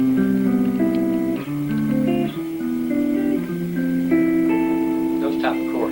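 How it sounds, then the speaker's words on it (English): Guitar strumming four-part seventh chords in a rising scale, several sustained chords ringing one after another, clear and close with no talking. "we're playing chords that sound like this now"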